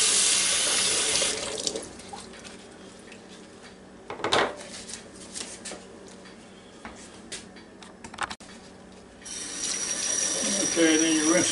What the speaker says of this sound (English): then you rinse the studs off of it real good